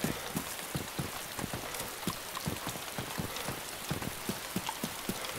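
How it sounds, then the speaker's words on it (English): Continuous video game rainfall hisses with a regular series of soft thumping drops or knocks repeating about every third of a second, no voices. "To make it rain every five fucking seconds."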